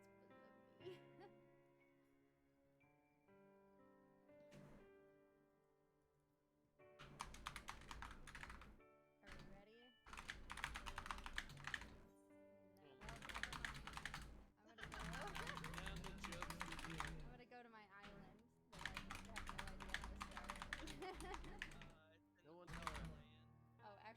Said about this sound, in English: I'm actually like typing to the artist